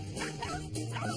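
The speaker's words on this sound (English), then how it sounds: "That is the typical bark of dogs who don't have rules, bounds, limitations." Several unruly dogs bark and yip at once in a dense, continuous chorus, fairly close and loud.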